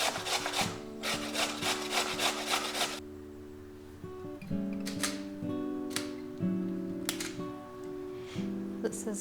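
Whole nutmeg grated fresh by hand, giving rhythmic dry rasping strokes in close bursts, a dense run of quick scrapes followed by slower, spaced rubs over faint background tones.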